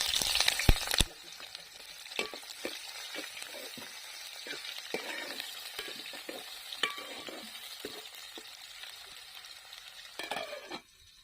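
Chopped onion and green chillies frying in a pan for a village-style boti curry, with a loud sizzle as they go in, then steady frying punctuated by repeated stirring scrapes and clinks.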